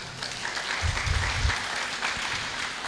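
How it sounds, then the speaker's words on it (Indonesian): Seminar audience of teachers and guests gives another round of applause, a steady, dense roar of clapping from a crowd, heard at moderate loudness with some low rumbling from the room. "Tepuk tangan sekali lagi"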